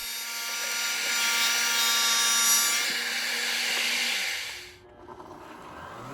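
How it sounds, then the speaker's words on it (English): A radial arm saw fitted with a dado blade cuts wood for sailboat cockpit trim, a loud close whirring roar that holds for about four seconds and then cuts off, leaving quiet shop noise. "I'll first use a dado blade on my radial arm saw to remove the bulk of"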